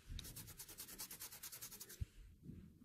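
Rhythmic scraping strokes, close and fairly quiet, a steady back-and-forth rasp of sandpaper grinding against hardened skin, about a dozen passes with a brief pause.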